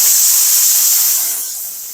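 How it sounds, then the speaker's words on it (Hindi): A pressure cooker of chana dal vents its pressure in a loud, steady jet of hissing steam, close and continuous, easing slightly toward the end. "जो कुकर का प्रेशर है ना वो हम सारा निकाल देंगे।"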